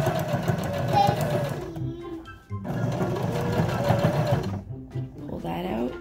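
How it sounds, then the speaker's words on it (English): A sewing machine runs close up while stitching a fabric face mask with a nose wire. It gives a steady mechanical whir in two bursts separated by a short pause, and a voice is faintly present. "continue sewing"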